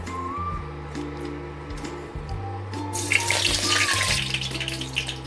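Curry leaves hit hot oil in a pan for a chana masala curry, bursting into a loud, hissing, crackling sizzle about midway that carries on steadily over a low electrical hum.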